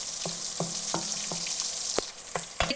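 Garlic and onion frying in oil for a dal tempering, a steady close sizzle broken by regular scraping stirs of a spoon in the pan, with no voices.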